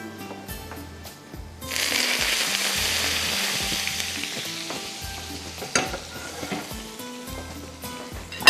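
A hot tarka tempering is poured over matka rabri and bursts into a loud, close sizzle that hisses steadily for several seconds after a few softer clinks, then gradually settles, with no talking.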